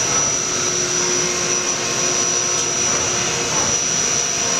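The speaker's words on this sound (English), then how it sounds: "Turn the coolant back on. Programmable coolant, so we'll go up." Coolant spraying steadily inside a Haas VF-9 vertical machining center, a loud, constant hissing rush with a high whine over it, unbroken throughout and with no talk.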